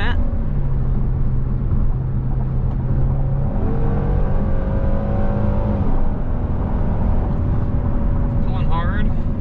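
A 2022 Genesis GV70 3.5T in Sport Plus mode accelerates hard, a steady loud engine drone rising in pitch through held gears, heard from inside the cabin under a voice.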